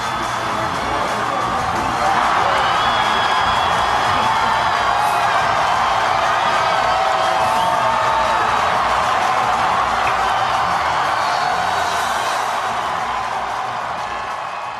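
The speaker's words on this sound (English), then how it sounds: "Listen to the crowd at Grant Park in Chicago." A huge crowd at Grant Park in Chicago cheers on the 2008 election night, a broad, sustained roar with whoops swelling and holding at a distance, steady and loud for the whole stretch.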